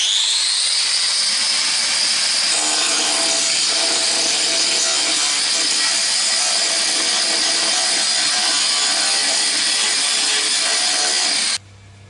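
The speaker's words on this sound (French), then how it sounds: "opération meulage des soudures" An angle grinder works MIG weld beads on 1 mm car body sheet metal, a loud continuous high-pitched whine and grinding rasp that holds steady for about eleven seconds, then stops abruptly.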